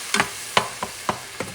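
Pork chops are stirred in a pan with a cup of red wine, giving five short, soft scraping strokes at a steady, unhurried pace, close and fairly quiet with no talking.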